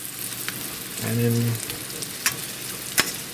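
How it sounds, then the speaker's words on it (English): Cheese-filled meat patties sizzle steadily in a frying pan at an old-time logging camp cookout. A voice briefly speaks over the frying, and a few sharp clicks and pops stand out near the end. "the cheese will come out and they'll start to stick to the frying pan"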